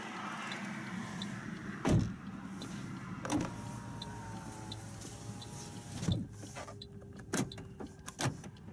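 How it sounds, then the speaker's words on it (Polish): Power windows on a 2013 Toyota Yaris Hybrid whir up and down inside the cabin, several motor runs broken by sharp clicks of the switches and seals, fairly quiet and close. "Blokada drzwi, blokada szyb elektrycznych."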